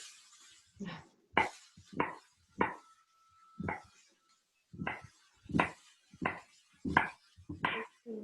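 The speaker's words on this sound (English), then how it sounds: "I'm going to cut up some onion." An onion chopped with a knife, about a dozen distinct knife strikes in an uneven rhythm, close and fairly crisp against a quiet background.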